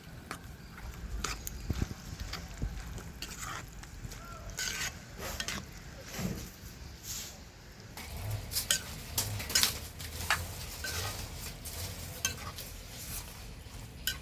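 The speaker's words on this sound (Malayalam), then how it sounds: "അത് ഇതിലിട്ട് ഇളക്കി കൊടുക്കാം." Salted mango pieces stirred into a mango pickle mixture in a pot, with soft wet scraping and occasional spoon clinks against the vessel, fairly quiet and intermittent.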